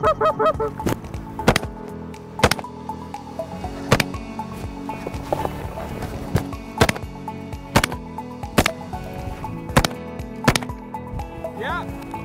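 A flock of geese honking repeatedly overhead during a waterfowl hunt, with loud sharp shotgun blasts at irregular intervals cutting through the calls, and some voices in the background.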